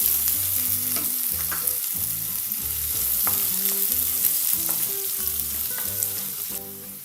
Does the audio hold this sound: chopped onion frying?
yes